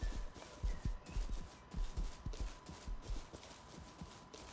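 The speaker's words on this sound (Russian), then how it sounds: "Лошадь идет за мной." A horse walks slowly behind a player on foot in the game Rust, its hooves clip-clopping in a steady, soft rhythm close by, with no talk.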